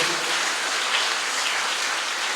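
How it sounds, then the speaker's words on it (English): Audience at a graduation ceremony applauding in a steady, dense wash of clapping that holds evenly for the whole stretch, with no talk over it. "I just want you to give them a round of applause"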